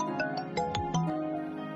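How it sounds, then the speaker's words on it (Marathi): A mobile phone rings in a home scene from a Marathi TV serial, a short melodic ringtone of bright stepped notes played close and clear, with no talk over it. "बापूचा फोन आहे."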